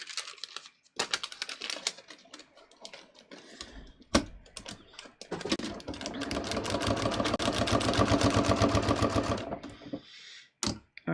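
A sewing machine stitches straight down the side seam of a dress, starting with a few short close bursts and then settling into a steady, loud run of needle strokes for several seconds before stopping.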